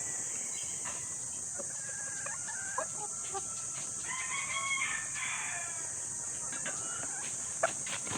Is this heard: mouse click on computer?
no